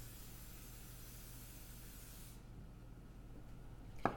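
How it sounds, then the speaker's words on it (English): Cooking spray hisses steadily from a can onto baking pans held over a kitchen sink, a continuous close spray that stops partway through, leaving faint room noise and a small clink. "I'll go ahead and get these ready by spraying these into the sink so that I don't get it everywhere."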